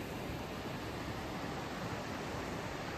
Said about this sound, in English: You hear the sound of the water, the river, your footsteps in the snow.